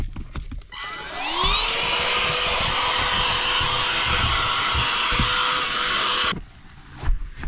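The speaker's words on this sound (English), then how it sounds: "Let's vacuum this up." A vacuum cleaner run to clean up a mess inside a car starts up with a rising whine, holds a loud, steady roar for about five seconds close by, then cuts off, with nobody talking.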